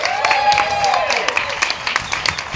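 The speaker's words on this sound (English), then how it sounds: "That deserves a huge round of applause." Applause at a Pride flag raising, scattered outdoor clapping from a small crowd heard under a person's voice.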